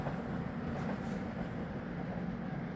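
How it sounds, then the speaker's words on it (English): Pendolino train arriving at Coventry station, heard as a steady, fairly quiet broadband rumble of wheels and motors rolling along the platform, with no voices over it. "Now here comes the Pendolino"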